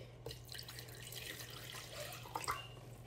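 Water pours steadily into a leche flan pan, a soft continuous splashing and trickling with a low hum underneath and a couple of brighter splashes near the end.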